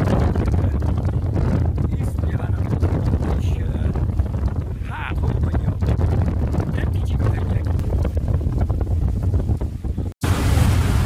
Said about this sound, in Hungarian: Miközben a hajó olyan pofátlanul pöfög